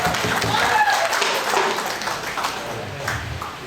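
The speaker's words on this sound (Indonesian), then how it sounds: "Berikan tepuk tangan yang meriah." Audience clapping at the opening of a church presbyters' general assembly, a mix of claps that starts fairly loud and gradually thins out, with some background voices.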